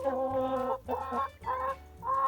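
A young mixed-breed rooster with yellow legs gives a run of nasal, drawn-out clucks in uneven phrases, close and clear with no talking.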